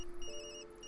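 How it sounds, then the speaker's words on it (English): A phone ringing in the video game Tokyo Dark, a faint, steady electronic tone with a second pitch layered in partway through, heard alone. "Sorry, Yumi, that's my phone."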